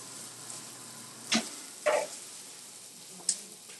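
Turkey bacon frying in a pan, a soft steady sizzle with a few brief louder crackles and pops, fairly quiet and with no talking.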